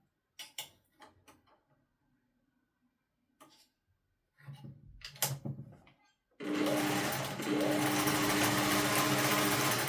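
Singer 401 sewing machine under tension repair, with scattered clicks and handling knocks before the motor starts and runs steadily and loudly, briefly dipping before continuing at a constant whir.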